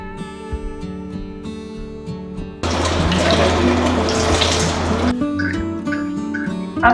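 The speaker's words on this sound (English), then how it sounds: "we will strain the curd using muslin cloth and rinse it with water to remove the excess of acidity." Water from a tap splashes loudly over strained Mithun milk curd in muslin cloth for a few seconds, set amid steady background music that continues before and after the rinse.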